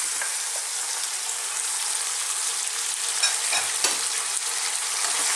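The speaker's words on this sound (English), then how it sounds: "let's just throw this around in the pan for about 2 minutes" Lamb chilli fry stirred over high heat in a pan, a loud, close, continuous sizzle with occasional scraping stirs and no talk.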